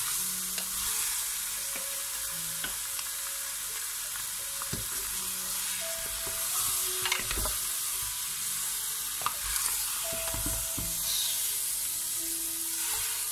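Chicken pieces browning in a hot pan for tinolang manok give a steady close sizzle with occasional stirring scrapes and clinks, with no talk.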